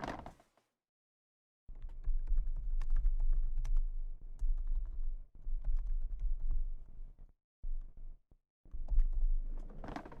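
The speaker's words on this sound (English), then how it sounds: "Let's type, maybe that's better." Typing on a computer keyboard during a live music-software stream, a steady run of close, clicky keystrokes broken by several short pauses, with no talking over it.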